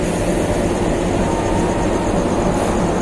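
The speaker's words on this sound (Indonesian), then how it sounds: "Ini kereta api Logawa dengan 2 kelas, ekonomi dan bisnis." A Logawa passenger train with economy and business cars runs by close and loud in Indonesia, its steady rumbling roar of wheels and carriages filling the short stretch without talk.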